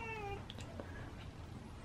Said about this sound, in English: That's not the murmur, that's just a meow